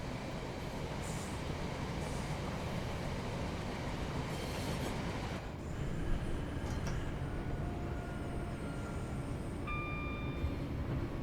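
Train braking in Train Sim World 6 on the Birmingham Cross City line: a steady rolling rumble with wheel and rail noise, a thin brake squeal rising near the end, no talk.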